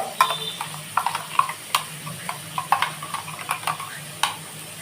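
Crab curry masala stirred in a pan with a little water just added, a spoon scraping in irregular clattering strokes over a soft steady sizzle, close and fairly loud, with no talking.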